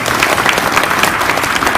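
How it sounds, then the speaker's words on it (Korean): A seminar audience gives a big round of applause for a visiting Nobel laureate speaker after a GMO panel discussion, a loud, dense, steady clapping that fills the room. "다시 한번 큰 박수 부탁드립니다"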